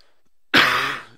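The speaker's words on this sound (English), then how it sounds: "Sorry if I keep coughing." A single short throat-clearing cough from a man with a sore throat, sharp onset then trailing off, close and fairly loud after a moment of near silence.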